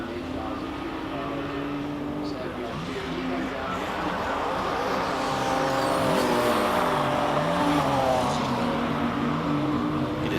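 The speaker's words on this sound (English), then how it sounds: "Here's one more of those lovely BMWs." A BMW M3 GTR race car at a hillclimb event revs and drives past, its engine note rising and falling with changes in pitch, heard at a moderate distance under a commentator's voice.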